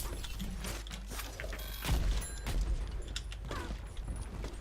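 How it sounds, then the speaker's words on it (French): Grenade launcher shots in the video game Overwatch, a series of quick mechanical clunks and thumps with a heavier boom near the middle, moderately loud with no talk. "Alors lui il tire des grenades."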